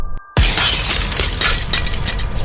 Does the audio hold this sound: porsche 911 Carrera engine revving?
no